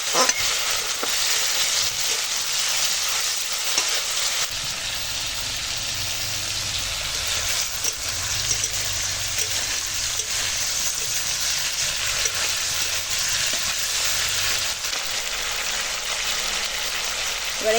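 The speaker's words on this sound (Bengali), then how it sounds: "তেল গরম হয়ে গেছে দিয়ে চিংড়ি মাছটা হালকা ভেজে নেবো" Shrimp fry lightly in hot oil, a sustained close sizzle and hiss that stays fairly even throughout with occasional pops and faint stirring.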